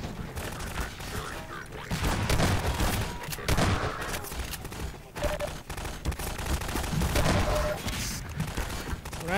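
Gunfire from the video game Half-Life 2 crackles in rapid bursts and volleys, loud and close, with crashing impacts and short gaps between exchanges.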